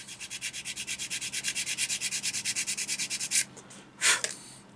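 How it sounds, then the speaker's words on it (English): A rough sander rubs back and forth across the edge of a plastic scale model part in about twenty quick, even rasping strokes, close and clear, then two brief final scrapes. "So I'm going to start with our rougher sander. Sand off that edge"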